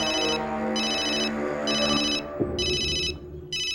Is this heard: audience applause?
no